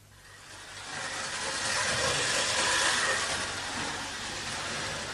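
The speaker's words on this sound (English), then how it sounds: "These trains really are beautiful, General." A running train in a radio drama, a broad steady rumble with steam-like hiss that swells and holds loud, with no voices over it.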